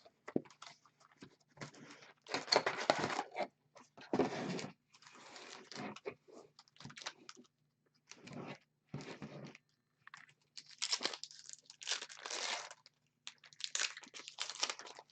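Crinkly plastic candy wrapper being pulled open and fiddled with, a close, irregular crackle of short bursts and pauses, mixed with soft chewing or mouth noises.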